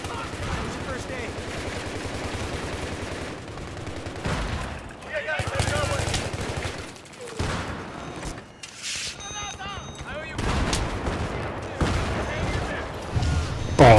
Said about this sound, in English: Oh, mortars now, really?